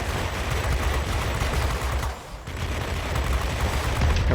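Aircraft cannons on a Me P.1092 fighter in World of Warplanes fire in a dense, continuous roaring stream, loud and close, with a brief dip midway before resuming.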